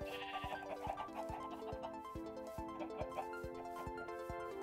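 Sheep bleating in Minecraft, faint wavering bleats under evenly spaced clicking beats and soft background music.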